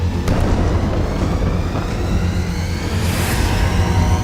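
Continuous deep rumbling roar from a large blast in a strike on an Israeli military base, with a couple of faint sharp pops over the steady low-frequency din.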